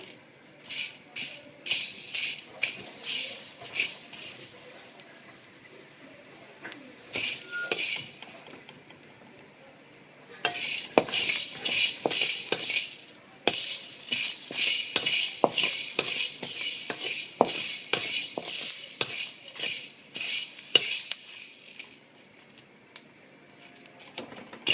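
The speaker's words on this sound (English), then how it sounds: "I'm dry roasting the coriander, pepper, red chili," Whole coriander, pepper, red chili and cumin seeds dry roasting in a pan, with repeated dry rattling and scraping as the seeds are stirred and tossed, growing busier in the second half, close and moderately loud, with no talk.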